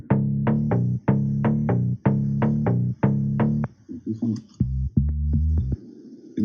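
A synth bass line from an Operator patch pulses in repeated short notes, pitched on the wrong note, then breaks into sparser, lower sustained tones as a second bass part joins, upfront and dry.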